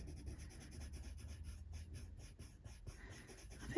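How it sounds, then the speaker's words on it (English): A colored pencil burnishes paper under hard pressure in quick repeated back-and-forth strokes, a soft, steady, close scratching rub throughout. "hard pressure, burnishing all over with this one now"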